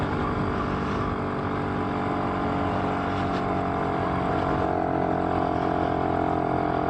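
A BSA D7 Bantam three-speed motorcycle engine labours steadily up a slight hill, its dense droning note loud and close throughout with a rise in pitch near the end, no talk over it.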